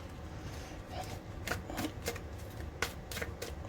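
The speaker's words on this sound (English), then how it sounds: "And I'm just going to shuffle this deck over here." A deck of tarot cards is shuffled close by, a series of quick crisp riffles and snaps over a faint background hum.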